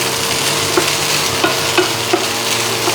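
Boiled black-eyed peas are added to sizzling capsicum in a pan and stirred, giving a loud, even frying hiss broken by a few soft, regular stirring bumps.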